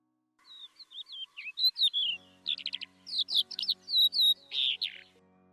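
A small songbird near a laser-cut wooden birdhouse sings a quick run of bright chirps and warbled whistles, clear and close against a quiet background.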